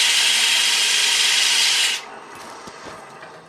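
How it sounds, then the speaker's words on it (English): Wood is sanded on a segmented turning, a loud steady hissing rasp that holds for about two seconds and then cuts off abruptly, leaving faint scattered taps and handling sounds; no one speaks. "So as you sand it, it becomes flatter."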